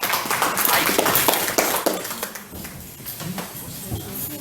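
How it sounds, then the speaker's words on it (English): Applause from an audience at an open-mic spoken-word night in a café, a dense burst of clapping that is loudest at first and thins out over about two and a half seconds, with scattered claps and voices continuing afterward. "round of applause"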